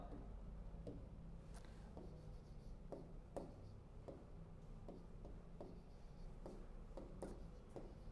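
Marker or chalk writes on a board during a lecture on wire drawing, a series of short scratchy strokes and taps spaced irregularly over a steady low room hum, with no talking.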